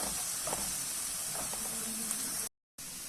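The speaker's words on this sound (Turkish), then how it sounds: "Şöyle bir yemek kaşığı salçaya da şöyle bir kavuruyorum." Tomato paste fries with onions and carrot in a soft, steady hiss of sizzling, with a few faint stirring sounds. The hiss cuts out briefly near the end.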